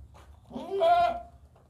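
A single goat on a farm of goats and bucks gives one wavering bleat, fairly close and clear, swelling and fading over about a second against quiet surroundings.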